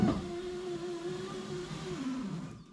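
A slow power window motor whirs steadily in an '85 Chevy squarebody truck, a sustained hum that drops in pitch near the end before cutting off into quiet.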